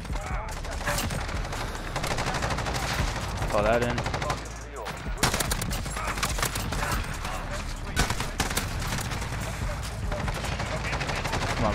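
AN-94 rifle fire in the video game Modern Warfare rattles in rapid bursts almost without pause, loud and dense, with other shots and game noise around it and a voice speaking briefly over the shooting.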